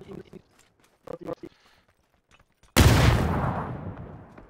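Gunfire in PUBG erupts as a sudden loud burst that rings out and slowly decays, following a few short sharp sounds earlier amid quiet stretches.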